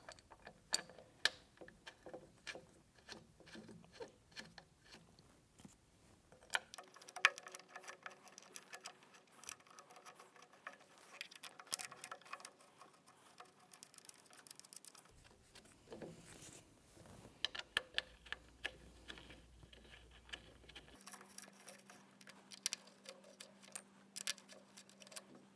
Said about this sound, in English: start these bolts in by hand here.